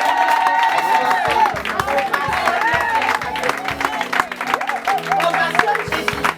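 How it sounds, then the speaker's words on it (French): A church congregation at a conference opening night claps and cheers in a long, loud ovation. A voice speaks over the steady applause and crowd noise. "Je voudrais que tu ovationnes Jésus-Christ de Nazareth."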